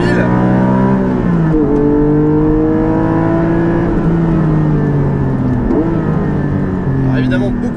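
A Porsche 718 GT4 fitted with an Akrapovic exhaust drives around the Spa-Francorchamps circuit, its loud engine note rising and falling through gear changes with sustained revving throughout, heard from close by.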